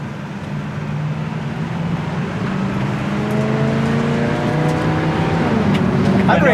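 A 1974 Oldsmobile 442 accelerates on the road, its engine note droning low and climbing steadily in pitch and loudness from inside the car.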